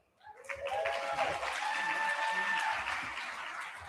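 A crowd at an awards ceremony bursts into sustained applause and cheering, loud and dense, swelling quickly and holding steady in a large room.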